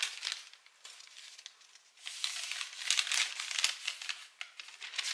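A paper shopping receipt from a Lidl grocery haul is crinkled and handled close up, a dry, papery rustle that pauses briefly and then grows busier and louder, with no voices.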